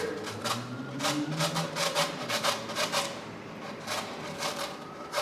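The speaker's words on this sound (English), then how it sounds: "just go ahead and grate it the way you would a block of cheese, carrots, anything like that" A cauliflower head is rubbed down a box grater to make cauliflower rice, giving a rhythmic series of soft, close rasping strokes, about two per second, at a fairly quiet level with no voices.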